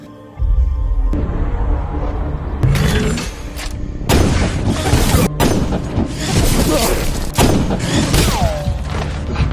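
Loud, sharp sniper-rifle gunshots punch through a dramatic film soundtrack, several sudden cracks over rumbling music and effects.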